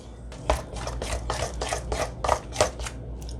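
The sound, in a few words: mixing ground flax seeds and vanilla extract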